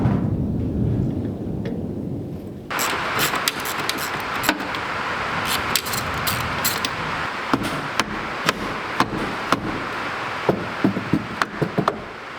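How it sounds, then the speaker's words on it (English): A deep roll of thunder rumbles in suddenly and keeps booming, with sharp cracks and knocks scattered over the low, heavy rumble. "Big thunder."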